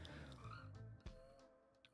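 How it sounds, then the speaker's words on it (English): A pet frog croaks close by in a room, a loud throaty croaking run followed by a sharp knock and a fainter trailing call. "my frog! I don't know if you guys can hear that"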